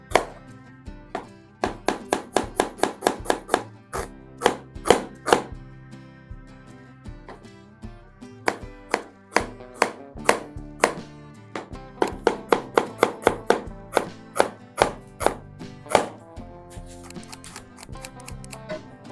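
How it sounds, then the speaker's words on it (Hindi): A knife finely chops a medium onion on a board. Crisp, rapid chops come in rhythmic bursts with short pauses between runs, close and clear, with no talking. "इसको हम चॉप कर लेंगे, 1/2 कर लेंगे ऑनियन को और बिल्कुल बारीक इसे चॉप कर लेंगे।"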